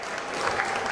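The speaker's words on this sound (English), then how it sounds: "Give me a round of applause as I say it." A comedy gig audience in Bolton breaks into a brief, steady wash of applause, dense and fairly loud throughout with no talk over it.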